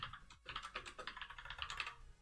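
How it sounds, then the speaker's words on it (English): Loud computer keyboard being typed on, a fast, even clatter of clicky keystrokes close by with no talking. "I know my keyboard is super loud."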